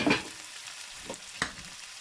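Broken saltfish is dropped into a pot to sauté, giving a soft, quiet sizzle with a few brief clinks and stirs, near and without speech.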